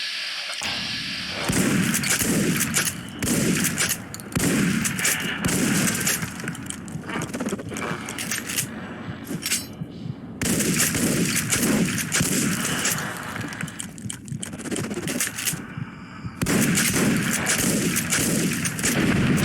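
Dense, sustained gunfire in the video game Fallout New Vegas, with rapid shots and heavy booming bursts in an almost unbroken barrage for about nineteen seconds, loud and close, with brief pauses.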